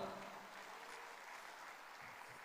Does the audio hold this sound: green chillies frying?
no